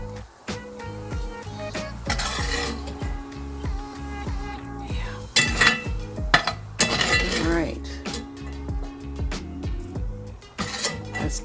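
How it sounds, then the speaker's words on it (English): Garbanzo beans are tipped from a container into a Dutch oven, heard as a dense run of clattering, clinking metal and rattling beans, close and fairly loud, with intermittent bursts and a steady low hum underneath. "Is put these garbanzo beans over into this Dutch oven."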